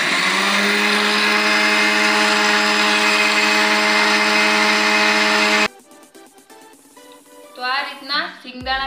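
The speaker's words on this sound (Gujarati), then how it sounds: "એના માટે આપણે સિંગદાણાને પીસી લેશું મિક્સરમાં." A mixer grinder whirs loud and steady while grinding peanuts for Gujarati stuffed brinjal curry, then stops abruptly, followed by quieter clinking and a voice speaking.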